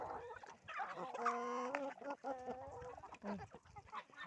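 Several nasal, honking duck calls close by, choppy and irregular, with brief pauses between bursts of squawking, in a snowy setting.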